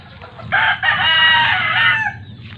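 A Kelso line gamefowl rooster gives one full crow, close and loud, lasting about a second and a half against a quiet farmyard background.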